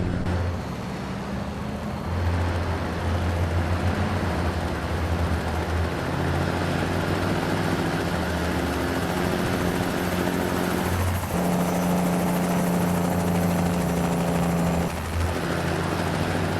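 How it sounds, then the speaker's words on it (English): A 2018 Cascadia truck engine in American Truck Simulator drones loud and steady from outside the cab, its low tone shifting partway through as the revs change, with no voices. "It's a pretty loud engine."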